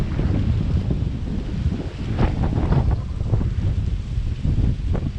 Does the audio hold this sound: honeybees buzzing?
no